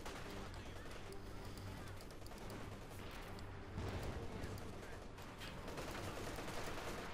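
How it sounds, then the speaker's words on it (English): Heavy machine gun fire crackles in a Company of Heroes 2 battle, rapid bursts mixed with other gunfire and explosions in a dense, busy wartime din, with a voice speaking over it. "Heavy machine gun fire there, threatening to wipe them out."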